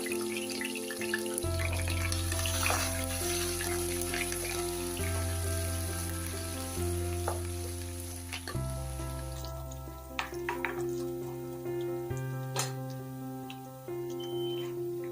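Curry leaves and ginger sizzling in oil for Kerala mango pickle, a bright continuous crackling fry close by with occasional sharp pops, set against soft background music and no voice.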